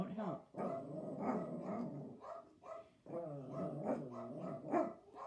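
Dogs barking and growling in a home, a run of close, loud barks and yips in two bursts with short pauses between them.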